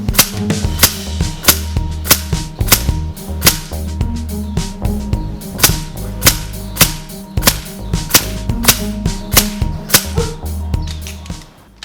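An air rifle fires JSB Knockout 25.39 grain slugs at a low speed setting, producing a rapid series of sharp, loud cracking shots in an irregular rhythm, each followed by a short metallic ring, with no talking.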